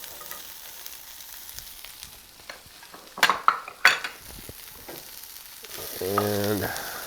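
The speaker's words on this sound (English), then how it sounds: "now that that's sizzling a little, I want to get my carrots in there" Carrots and celery sizzling in a hot pan for a chicken pot pie, with a steady frying hiss, a couple of louder scrapes and clatters from stirring midway, and a brief sharper burst near the end.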